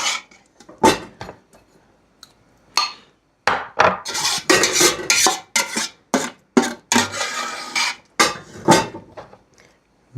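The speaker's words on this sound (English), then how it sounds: "Very, very thick right now. I'm scraping down to the very bottom." A spoon scrapes the bottom of a pot of very thick home-cooked food, giving a run of close, loud scraping strokes in quick bursts with brief pauses between them.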